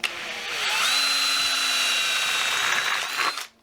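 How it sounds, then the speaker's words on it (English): A power drill boring a hole while modifying an FB Mondial 125 motorcycle, a steady loud whirring run of about three seconds that winds down and stops abruptly. "Drill and hole."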